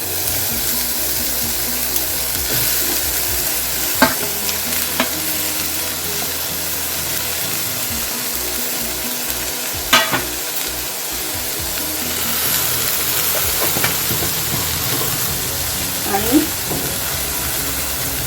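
Vegetables added to a pan for a traditional Konkan Krishna Janmashtami offering, a loud steady sizzling hiss with occasional scraping stirs and utensil knocks.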